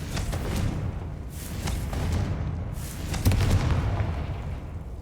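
A Confringo blasting spell bursts in a Harry Potter video game, a loud, full-bodied boom with a crackling tail over dense rumbling game noise, with a second sharp hit about three seconds in.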